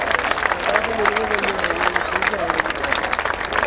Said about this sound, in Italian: Facciamone un applauso